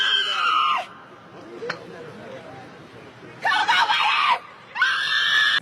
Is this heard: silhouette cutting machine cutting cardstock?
no